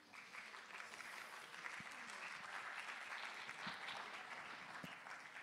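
Evening audience at a Brazilian university lecture event clapping for an arriving speaker, a dense, even wash of applause held steadily throughout, moderately distant and fairly quiet, with some murmur of voices mixed in.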